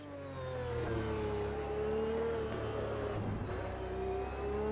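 Maserati MC12, rear-engined, revs hard in the racing game Automobilista 2, a loud, close engine note climbing in pitch and holding with a brief dip near the end, no voices.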